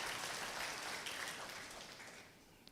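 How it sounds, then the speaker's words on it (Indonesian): An audience in a church breaks into applause, a dense wash of clapping that starts full and gradually fades over a few seconds, with no voices over it. "Yang setuju tepuk tangan dong."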